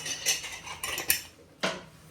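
A metal lid is set onto a cooking pot on the stove, giving a few short, close clinks and clanks with a final sharper knock.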